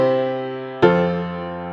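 A sequence of chords forming a 2-5-1 progression in Western harmony: a sustained chord changes to a new one partway through, then rings out clearly on its own with no voices.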